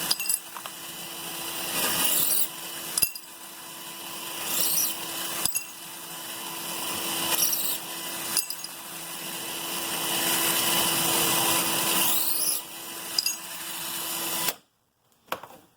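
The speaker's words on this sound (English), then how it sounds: "You don't have to press hard, just enough to get the burrs off." A deburring tool working the case mouths of converted .223 brass cases in repeated scraping passes, broken by sharp clinks as the cases are handled, then a sudden stop near the end.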